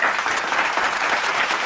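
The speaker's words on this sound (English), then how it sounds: "I like the applause" Steady, dense applause from a studio audience greeting a guest on a talk show, loud and continuous without pause or voices.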